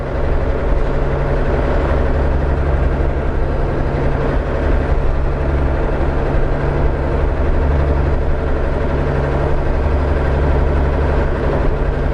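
A heavy old bus engine drones steadily and loudly throughout, a deep low rumble with a constant hum, close by and with no talking.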